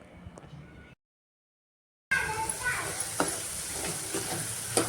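Onion and tomato masala with chilli powder and garam masala frying in a pan, a soft sizzle that cuts out briefly, then returns with scraping stirs and light clinks of the spoon.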